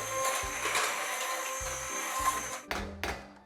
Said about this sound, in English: we're now gonna take our little hand mixer,